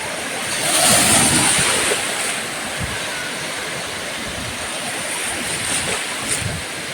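Sea waves wash and break nearby on a beach at Mandarmani, West Bengal, in a continuous hissing surge, swelling early then settling into a steady roll, with no voices.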